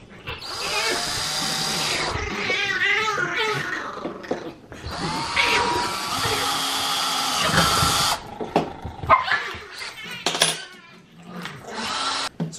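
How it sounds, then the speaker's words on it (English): A power drill whirs in several bursts, revving and grinding as it bores holes through PVC pipe, with short pauses and clatter between runs. "I'm drilling 2 holes, and then I'm using a smaller bit to drill a pilot hole all the way through."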